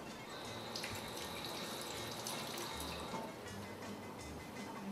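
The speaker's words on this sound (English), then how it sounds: "I'll wash my hands really quickly." Steady running tap water pours into a kitchen sink as hands are washed after making a fresh salad, a continuous close hiss with no talking.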